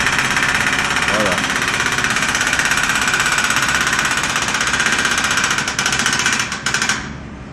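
A jackhammer pounds pavement at roadworks in Alfortville, a loud, continuous rattling hammering close by that fills the scene for several seconds before cutting off near the end, with a voice talking over it.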